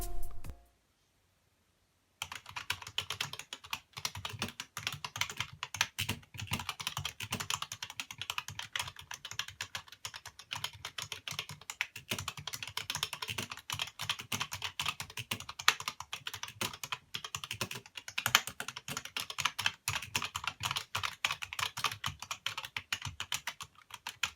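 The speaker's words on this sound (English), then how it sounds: "how loud the keys are when they are just being pressed at a normal typing force" Steady typing on an Azolt gReformer gaming keyboard at normal force goes on for about twenty seconds, a dense rapid clatter of keypresses at a moderate level with no voices.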